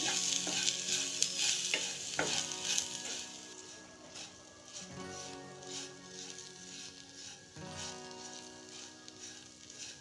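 Green chillies with salt, sugar and fennel powder frying and being stirred in a pan, a steady sizzle with scraping stir strokes, loud early then settling, no talking.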